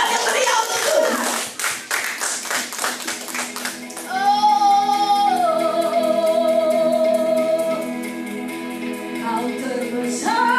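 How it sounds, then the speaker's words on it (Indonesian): A church congregation at a worship service in Bali claps in a fast, steady rhythm, the many hands sounding close and loud, joined after a few seconds by sustained organ-like music and singing. "Berikan tepuk tangan yang meriah untuk Tuhan."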